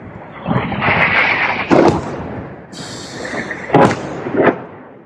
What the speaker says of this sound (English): That is the sound, I think, of anti-air.